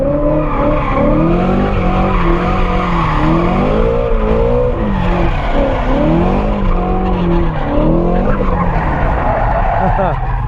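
A 2017 Shelby GT350 drifts with loud, continuous tire squeal and skidding, its engine revving and wavering through transitions, while a voice talks over it throughout.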